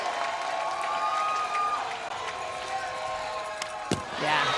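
A stadium crowd at a college softball game between Oklahoma and Texas lets out a broad, steady roar of cheering and applause that holds throughout, with a sharp crack near the end.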